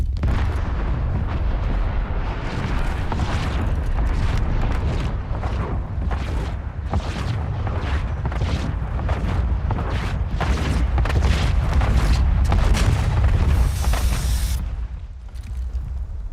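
Heavy explosions from incoming strikes rumble through a Warzone match, a continuous loud barrage of booms and bursts over a deep roar, with no talking.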